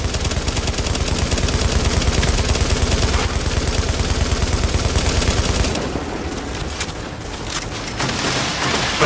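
Sustained rapid automatic gunfire rattles loud and close throughout a firefight in The Division, a third-person shooter, then shifts to sharper, more scattered bursts toward the end, with no voices.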